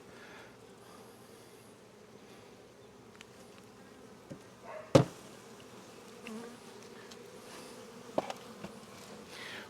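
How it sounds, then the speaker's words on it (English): Honey bees hum steadily inside an open bottom hive box during a Demaree split, a continuous low drone with a sharp knock near the middle and a few light clicks later, close by with no talk. "Looks like a lot more bees in this box."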